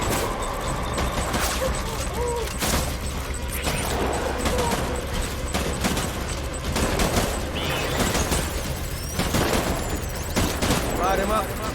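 Sustained gunfire in the video game Death Stranding rattles in dense, overlapping bursts and heavy reports throughout, loud and continuous, with voices mixed in beneath the shooting.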